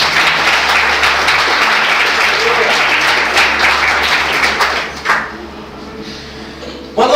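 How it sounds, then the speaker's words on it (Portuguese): A church congregation applauds at a sermon, a thick wash of clapping filling the room for about five seconds, then fading to a quieter tail with scattered claps. "Você pode dar uma salva de palmas para Jesus?"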